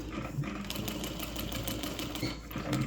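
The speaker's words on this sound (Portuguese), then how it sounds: "Costurando toda a volta." A sewing machine runs steadily for about three seconds, stitching all the way around the edge of a fabric pet bandana; its close, continuous whirring hum carries a fast mechanical pulse and stays unbroken throughout.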